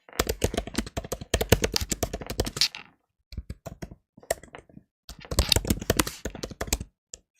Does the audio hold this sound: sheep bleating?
no